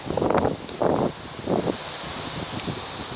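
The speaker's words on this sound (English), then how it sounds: "listen to the wind." Wind gusting through silver birch trees outdoors, a soft broadband rush that swells in three distinct surges over the first two seconds, then settles into a steadier, quieter whoosh.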